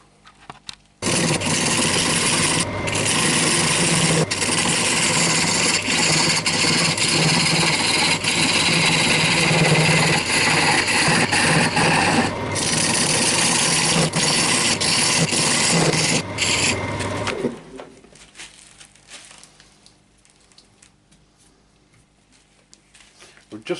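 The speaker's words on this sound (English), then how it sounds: "I'm starting to get a nice cut now." A woodturning lathe drives a tool through a spinning yew bowl with a loud, steady grinding rasp lasting about seventeen seconds, then the cut stops and only quiet room noise remains.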